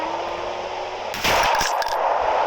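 A single sharp gunshot cracks out loud and close midway, a sudden broadband burst with a brief ringing tail, following a steady background hum.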